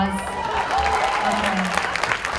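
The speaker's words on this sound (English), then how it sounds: "Can we give Holly a round of applause?" Audience applause at a Hawaii regional event, a steady wash of clapping lasting a couple of seconds, with voices mixed in underneath.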